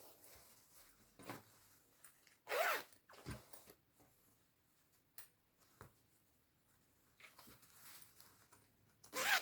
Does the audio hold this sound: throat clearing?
no